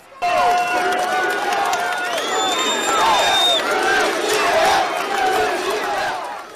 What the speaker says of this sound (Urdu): ترکی اور آذربائیجان دو ملک ایک قوم کے نعرے گونجتے رہے۔